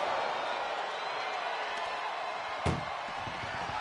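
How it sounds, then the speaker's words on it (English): A single sharp metallic slam of an ambulance door in the WWE 2K25 wrestling video game, heard once over a steady roaring arena crowd with some low rumble afterward. "Doing their best just to shut that first door. First door shut."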